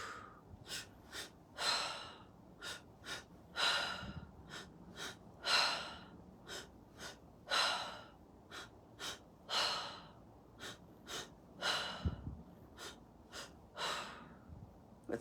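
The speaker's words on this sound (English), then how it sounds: "breathing into your womb, into your heart, and then out through your mouth." Slow, deep breaths in and out through the mouth during a guided breathwork session, each airy exhale and sharp inhale rising and fading in a steady rhythm, close and soft.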